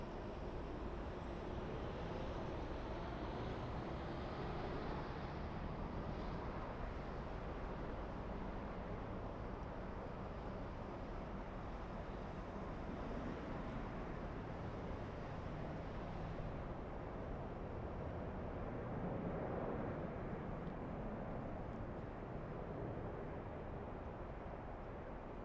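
An Emirates Airbus A380 on a 16-hour flight to Dubai takes off from LAX, its broad, steady engine roar sustained throughout and heard from a distance, with no talk over it.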